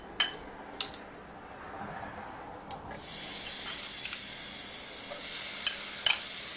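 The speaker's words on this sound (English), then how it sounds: "That's going to sizzle up nicely" A couple of light clicks, then chopped onion hits a hot pan and breaks into a loud, steady sizzle that continues to the end.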